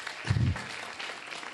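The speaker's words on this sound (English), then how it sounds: "We can give him a round of applause." Short, faint patter of an audience applauding Tom at the close of a youth leaders' idea lab session, brief and soft, with a dull thump near the start.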